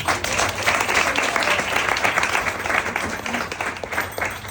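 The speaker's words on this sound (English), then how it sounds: "we have a big applause for" An audience gives a big round of applause for Mother Prema Mai at a devotional gathering, a full, continuous roar of many hands clapping that stays strong before easing slightly.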